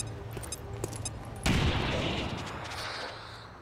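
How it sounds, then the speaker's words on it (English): In the XCOM 2 video game, a grenade goes off with a sudden loud blast partway through, followed by a long rumbling decay, after quieter game sounds. "maybe I can outright kill a trooper with this grenade"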